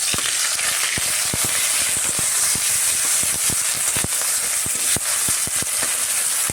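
Onion paste hits hot oil already spiced with a dried red chilli, cinnamon, cardamom and cloves, giving a loud continuous sizzle peppered with sharp popping crackles throughout.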